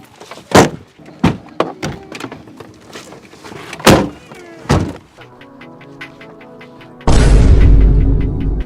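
Police vehicle with a man being pushed inside: a series of loud, hollow thunks and bangs of car doors and bodywork at uneven intervals, close by, ending in a sustained engine-like roar.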